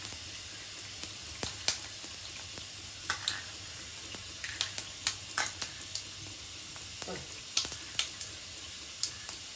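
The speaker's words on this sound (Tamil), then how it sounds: "நல்லா பொரியுது." Ingredients for a mushroom pepper gravy crackle and sizzle in hot oil, a steady frying hiss broken by sharp pops and spits scattered through the whole stretch, close up with no voices.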